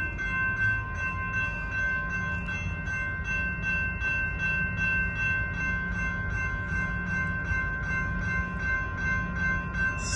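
A BNSF manifest freight train rolls by the Calwa diamond crossing in Fresno, California, with a steady loud rumble of wagons and a ringing bell or horn tone held the whole time.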